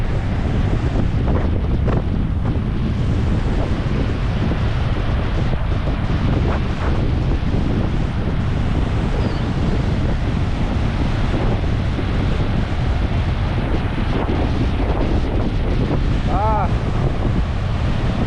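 Rough sea surf crashes continuously during a typhoon under strong wind buffeting the microphone, a loud, steady roar with brief faint voices in the background.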